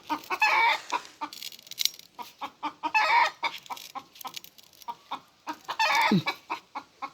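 Chickens cluck repeatedly in short bursts, several birds close by, with occasional louder squawks breaking through the steady clucking.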